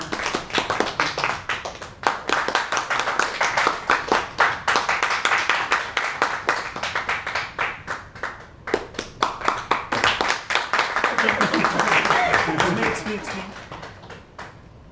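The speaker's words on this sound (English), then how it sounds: "Whenever you find a photo really good, please clap hands." An audience claps hands during a bird photography presentation, a dense, continuous patter of many hands at close range with a few voices mixed in.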